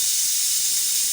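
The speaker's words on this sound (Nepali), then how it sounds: "सिटी पनि खुल्यो कुकरको।" A pressure cooker's whistle being lifted releases a loud, steady, bright hiss of escaping steam that holds evenly throughout, with no other sounds.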